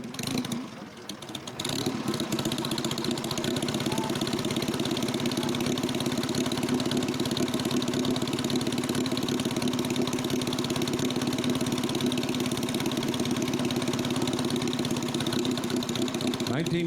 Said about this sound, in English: '42 Indian 4. What a rare motorcycle.